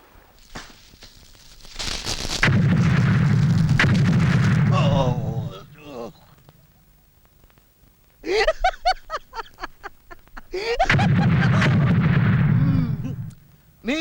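Firecrackers burst in long, loud, rumbling volleys, separated by a stretch of quick crackling pops and brief quiet gaps.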